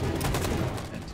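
Heavy covering fire in the Detroit Become Human video game forms a dense, continuous wash of rapid gunshots, loud and close, thinning slightly toward the end.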